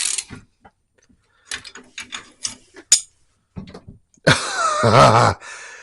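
Loose suspension on a Manco 4-wheeler is tightened with a hand tool, making scattered close metallic ratcheting clicks and clanks, followed by a louder burst of grinding mechanical noise near the end.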